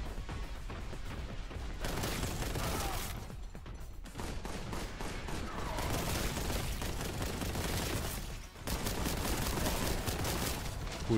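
Sustained gunfire from enemies in the retro shooter video game Boltgun, dense and loud with bursts running nearly nonstop across the whole stretch, broken only by brief dips.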